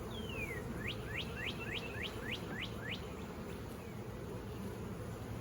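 A steady low buzzing hum of honey bees at an open hive fills the background, while a bird's clear, rising chirps repeat rhythmically over it.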